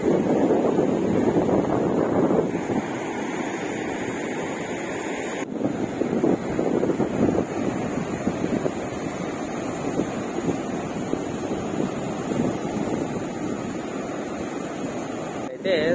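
Wind and sea waves at Kesanapalli beach in Konaseema make a steady, loud surf roar, with gusts buffeting the microphone throughout and a brief lull partway through.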